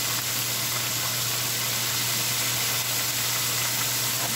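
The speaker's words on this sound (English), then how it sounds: "Stir it up a little bit and let it simmer down." Kale steam-frying in a pan gives a steady, even sizzle and hiss with no breaks, fairly loud and close, with a faint low hum underneath.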